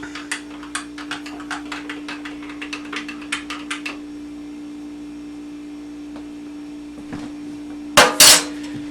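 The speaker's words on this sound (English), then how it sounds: "Put that right into our liquid. I'm going to stir it up." A utensil stirs tablespoon of olive oil into the liquid for homemade pizza dough, a quick run of light clinks and scrapes against the bowl that stops partway, followed by a louder clatter near the end.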